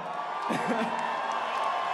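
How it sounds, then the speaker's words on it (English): A crowd at a 62kg fight cheers and whoops for a hometown fighter, a continuous roar with one voice yelling out above it, under nearby speech. "Have you heard this crowd? They're awesome."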